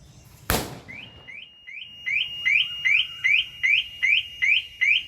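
A sharp click, then a Maruti car alarm begins, repeating rising electronic chirps in a steady rhythm that grow louder.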